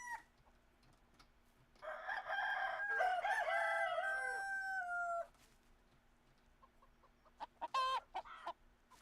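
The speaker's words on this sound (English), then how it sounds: "Fucking chickens." Chickens in the video game Medieval Dynasty cluck and a rooster crows in a long, loud drawn-out call, followed by a quieter burst of squawks and clucks near the end, with no talking.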